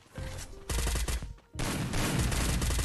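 Rapid bursts of gunfire in a ranked Counter-Strike match, two sharp volleys separated by a brief gap, loud and close with no talk over them.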